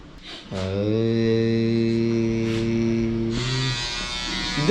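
An electric hair trimmer in a barber shop gives a steady, close, droning buzz that starts after a brief pause and lasts about three seconds, then shifts to a brighter, hissier whir.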